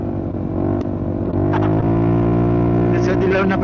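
A motorcycle engine runs loud and steady during a ride, with rising revving bursts in the second half, close to the rider.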